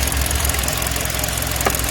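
Close-up recording from the engine bay of a car with a stuck spark plug and an engine that has run hot, giving a loud, steady, rhythmic idle with knocking pulses and a dense, rough mechanical drone.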